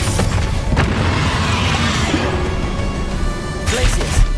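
Bombarda spell blasts in Hogwarts Legacy, a steady dense rumble of impacts and crashes with sharp bursts near the start and a louder burst near the end, amid game music and effects.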